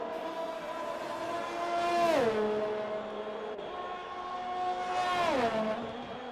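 An AlphaTauri Formula 1 car on a qualifying lap in a racing video game, its high-pitched engine screaming steadily, then dropping sharply twice as it brakes and downshifts, fairly loud and alone.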